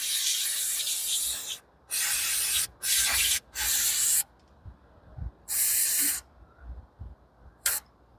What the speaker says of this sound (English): I'm going to spray out these guides really quick.